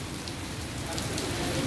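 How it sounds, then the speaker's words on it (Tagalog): Heavy rain pours steadily during a storm in the UAE, a dense continuous wash of drops on surfaces, loud and close throughout with no talk. "Nako, lakas ng ulan. Sobra, bagyo."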